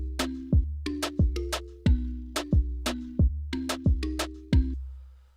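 Reggaeton beat: an overdriven sub bass line that pumps in a steady syncopated rhythm, ducked by the kick, with short bright stabs on top, loud and close.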